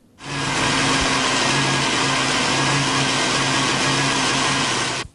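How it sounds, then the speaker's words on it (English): A wooden mast for a ship model is ground down by a power tool, producing a loud, steady, continuous whine with a low hum that runs unbroken for about five seconds, alone without voices. "grind down the mast until he achieves the desired thickness"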